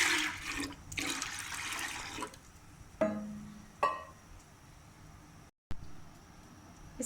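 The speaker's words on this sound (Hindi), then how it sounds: "अब इसमें ढेर सारा पानी डाल दें।" Lots of water poured into masoor, moong and chana dal in a pressure cooker: a loud gushing splash at first, then fading pours and a few clanks, with a brief gap of silence.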